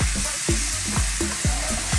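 Chopped fresh tomatoes fry in a hot pan, giving a loud, continuous sizzle broken by regular scraping stirs about every half second.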